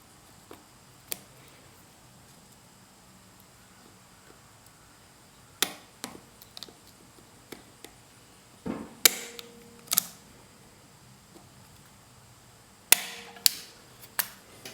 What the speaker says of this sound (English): grab a pair of snap ring pliers and get them out